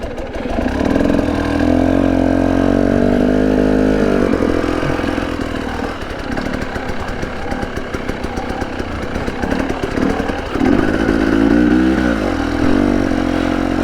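A 2021 Husqvarna TE 300i dirt bike engine pulls away in second gear, its loud, close two-stroke note rising and wavering as the revs climb and change, with no talk over it.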